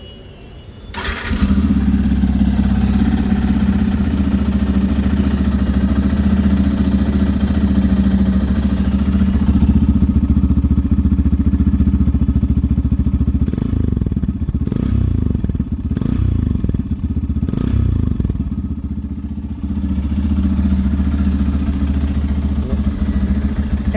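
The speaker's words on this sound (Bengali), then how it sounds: "বাইকের সাউন্ডটা দেখাবো।" A nearly new motorcycle with about 3,300 km on it starts up and then idles steadily and loudly close by for about twenty seconds, with a few clattering knocks partway through.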